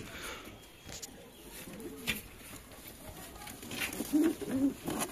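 Pigeons being caught by hand at a home loft give low, soft coos near the end, over faint background noise and a little quiet speech.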